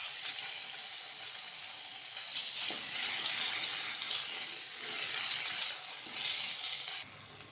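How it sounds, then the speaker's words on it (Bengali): Tomatoes frying in a pan give off a loud, continuous hissing sizzle that swells and eases slightly before dropping off near the end. "টমেটোটা এতে দিয়ে ভেজে নেব। এক দু মিনিট মতো ভাজবো।"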